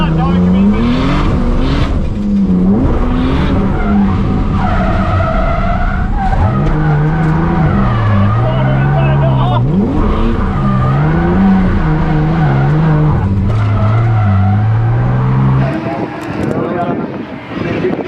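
A 600+hp Barra-engined drift car sliding on new tyres, with loud continuous tire squeal and an engine wailing up and down in pitch, under wind noise and occasional talk.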